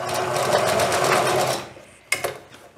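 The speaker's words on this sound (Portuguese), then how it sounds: "eu trago aqui para a máquina, faço o retrocesso direitinho" A sewing machine backstitches across an elastic waistband, a steady dense whir for about a second and a half, then a pause and a short sharp burst of stitching, close and alone.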